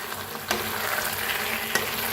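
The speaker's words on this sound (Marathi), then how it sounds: "छान असं मिक्स करायचं बघा" A chicken mixture is stirred in a frying pan, giving a steady close sizzle with a couple of sharper scraping knocks from the spoon.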